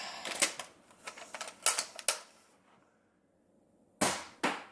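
Several short, sharp pops from a nerf gun firing at targets, a quick cluster of clicks and thwacks early on, then a quiet gap before two crisp shots close by.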